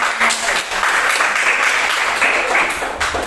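A classroom of students claps for group 3 after its presentation, a short burst of loud, close, fairly dense applause that carries on evenly with a slight dip near the end.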